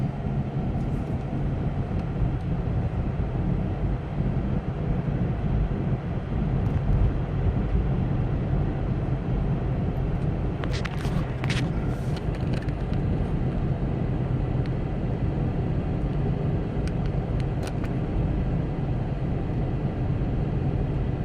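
A car drives slowly through hurricane-battered Port Aransas weeks after Hurricane Harvey, with a steady low engine and road rumble throughout and a few faint ticks and rattles midway, no voices.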